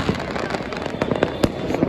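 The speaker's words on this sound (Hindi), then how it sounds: "देखिए गाइस क्या शानदार आतिशबाजी हुई है" Fireworks at the Makar Sankranti kite festival in Jaipur pop and crackle in a dense, irregular string of sharp bursts, loud and fairly near, with voices under them.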